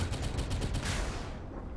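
Warship guns firing in the naval combat game Modern Warships, a rapid, dense burst of heavy gunfire pounding in quick succession, then tapering off toward the end.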